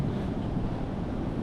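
Ocean waves wash up onto the rocks at Jump Rock on the Great Ocean Road, a steady, loud, close rush of surf mixed with gusting wind noise and no pauses.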